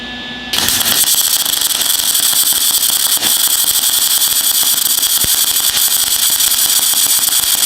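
A Lincoln MIG 180HD welder strikes an arc after a brief quiet moment, then gives a loud, continuous crackling sizzle of sparks that holds steady at close range.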